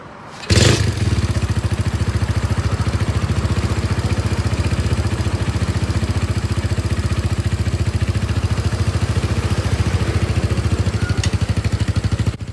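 Honda Sonic motorcycle engine bored out from 125cc to 143cc, started for a test run and then revving and idling loudly and steadily up close, with a rapid, even exhaust pulse throughout.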